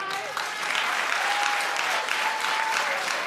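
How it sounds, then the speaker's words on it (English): A television talk show studio audience claps in a thick, continuous burst, fairly close and even, with a faint tone running underneath. "you guys are clapping"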